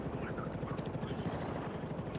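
A helicopter in the video game Battlefield 4 gives a steady rapid rotor chop, close and continuous for the whole stretch, with faint game sounds around it.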